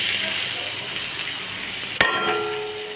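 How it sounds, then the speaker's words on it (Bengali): Onions fry in a pan with a steady, close sizzle and crackle, broken near the end by a sharp metallic clang of a utensil against the pan. "পেঁয়াজটা ভাজাভাজি করে লালচে হয়ে গেলে তবে এর মধ্যে আমি রসুন দেব।"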